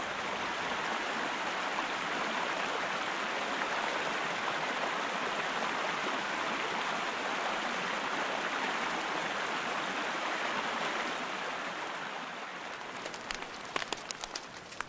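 A river runs just below a bush campsite, its close, even rushing wash holding steady for most of the stretch before it eases slightly near the end, where a few faint clicks come through.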